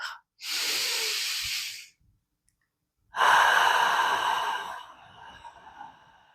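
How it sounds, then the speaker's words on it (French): Slow, deep breaths during a guided meditation: a long airy inhale, a pause of silence, then a longer and louder exhale trailing off, close to the microphone with no talking. "Et enfin, une troisième inspire, expire."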